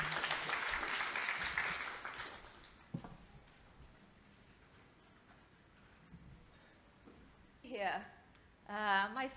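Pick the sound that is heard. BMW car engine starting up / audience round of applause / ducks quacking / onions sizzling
audience round of applause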